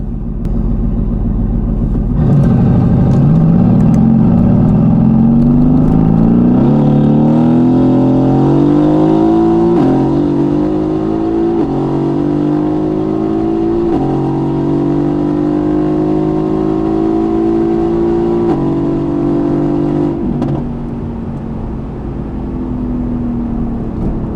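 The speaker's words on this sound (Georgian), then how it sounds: "ბუქსაობს მანქანა" A Mercedes-AMG GT launches at a drag race with wheelspin, its engine roaring loud and close in a long sustained rev that climbs and holds for about twenty seconds before easing off.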